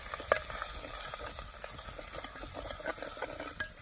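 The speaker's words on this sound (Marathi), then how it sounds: "तेलामध्ये आपण वाटण चांगलं परतून घेऊया" Ground masala paste sautéing in hot oil for a mutton curry, a steady close sizzle with scraping stir strokes and a sharp utensil clink near the start, no talking.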